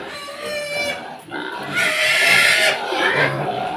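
Native pigs squeal and grunt loudly and continuously at close range at feeding time, with shrill cries rising over a busy, noisy background.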